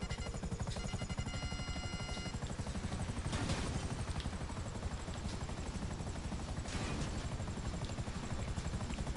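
A scout chopper helicopter in GTA Online makes a steady, quiet rotor thrum that continues for the whole stretch without a break, with faint swells in the whine now and then.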